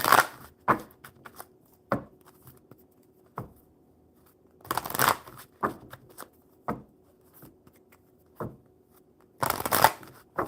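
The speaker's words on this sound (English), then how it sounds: "One more good shuffle for you." Oracle cards being shuffled by hand in repeated bursts of riffling and slapping, close and crisp, separated by short quiet gaps.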